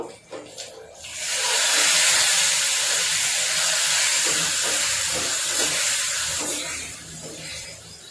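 Asafoetida tempering hits hot oil in a pan, starting with a few crackles and then a loud, steady close-up sizzle that holds for several seconds before easing slightly.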